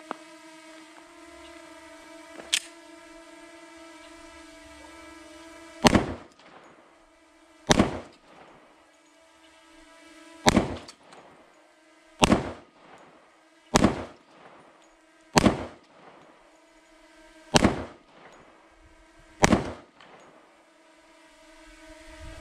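A Kimber Black Ice 10mm pistol fires about nine sharp, loud gunshots in an uneven sequence at an outdoor range, each crack decaying quickly over a steady background hum.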